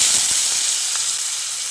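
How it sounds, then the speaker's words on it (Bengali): Potatoes frying in hot oil in a home kitchen pan, a steady close sizzle and hiss running throughout with a few faint pops, no talking. "এবার ওই তেলে আমি আলু দিয়েছি"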